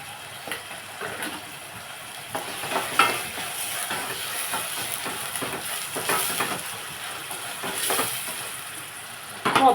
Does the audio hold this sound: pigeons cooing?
no